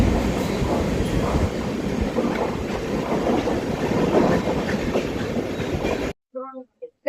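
The 12052 Jan Shatabdi Express on the Konkan Railway rolls along with a steady rumbling clatter of wheels on track, heard from inside, before it cuts off abruptly and a brief voice follows.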